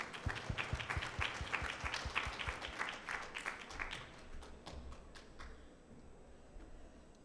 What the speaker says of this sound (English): So Robin, please give her a round of applause.